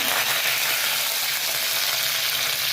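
Cumin, mustard seeds, green chillies and curry leaves sizzle in hot oil for an idli fry, a loud, steady, close hiss with fine crackling throughout.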